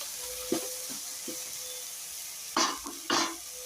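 A spatula stirring green gram and cowpea sprouts sabzi in an oiled pan, with a few soft scrapes and two louder scraping strokes over a low sizzle, close and without speech.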